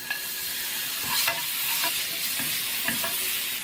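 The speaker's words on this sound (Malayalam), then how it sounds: "ഇനി ഇതിലേക്ക് അരിഞ്ഞു വെച്ചിരിക്കുന്ന തക്കാളി ചേർത്ത് കൊടുക്കാം." Chopped tomatoes sauté in a hot frying pan for a chicken omelette, giving a steady close sizzle broken by a few soft scrapes of stirring, with no voices.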